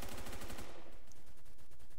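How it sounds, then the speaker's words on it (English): Rapid automatic gunfire and sniper shots from the Roblox shooter Phantom Forces, a loud, dense burst of repeated shots that fills the whole moment without talk. "I'm being sniped at."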